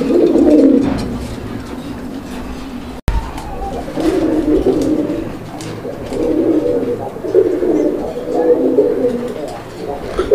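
A pigeon coos repeatedly in low, rolling phrases, close and fairly loud, with a brief dropout partway through and faint room noise beneath.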